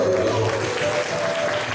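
Audience clapping at a dance festival in a Hunsur hall, a dense steady patter of many hands filling the room, with a faint voice mixed underneath.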